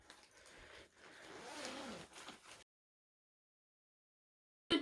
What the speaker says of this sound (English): You want to unzip that?